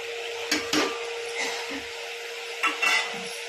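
Chicken with chili powder, coriander powder and pepper is stirred for biryani, a spoon scraping and knocking against the pot in two short clattering bursts over a quiet kitchen hum.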